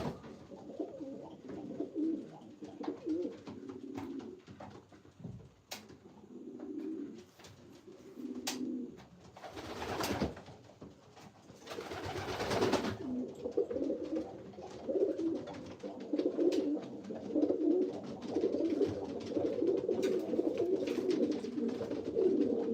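Pigeons in a loft coo in repeated low, rolling phrases, several birds overlapping close by, broken by wing flaps and rustling bursts, steady and moderately loud throughout.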